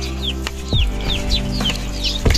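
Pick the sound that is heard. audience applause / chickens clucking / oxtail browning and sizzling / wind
chickens clucking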